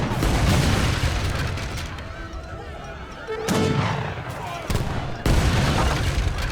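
Age of Empires 3 battle between Portuguese and Russian armies, with repeated gunfire and cannon-like booms from organ guns and units hitting a town center, dense and loud, with brief quieter gaps and a commentator talking over it.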